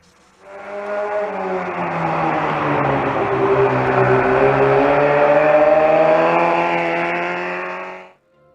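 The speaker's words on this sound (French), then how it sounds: "C'est très inhabituel de voir ce mini-moto qui sonne comme une moto de sport." A Honda Monkey 125 mini motorcycle with a four-piston engine rides past, its smooth, high-revving note sounding like a sportbike, swelling in loudly and sustained for several seconds before cutting off, with no talk.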